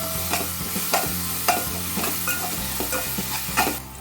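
Grated raw mango fries in oil for a mango rice dish, a close sizzle broken by repeated scraping strokes of a spoon stirring the pan roughly every half second, no speech.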